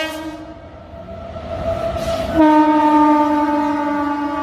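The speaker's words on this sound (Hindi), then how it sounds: "ट्रेन पार हो रही है इसलिए थोड़ा सा आवाज़ में अवरोध आ रहा है।" A train horn blares in long sustained tones, joined midway by a louder second blast, over the rumble of a passing train.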